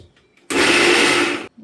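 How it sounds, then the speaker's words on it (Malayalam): A kitchen mixer grinder whirs loudly for about a second, coarsely crushing turmeric and green chillies, with a sharp start and stop and quieter room sound on either side. "അതുകൊണ്ട് ഞാൻ മിക്സി വെച്ച് ഒരു കറക്ക്"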